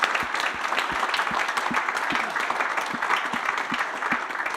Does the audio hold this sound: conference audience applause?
yes